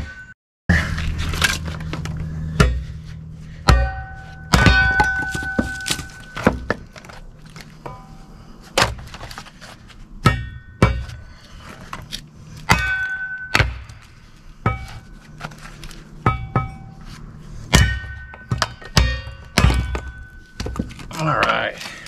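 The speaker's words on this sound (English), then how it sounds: "He was walloping it with this sledgehammer." Repeated sharp wooden thunks ring out at irregular intervals as a sledgehammer strikes wood on a Kindling Cracker XL cast-iron firewood splitter. The blows are loud and close, with brief pauses between them.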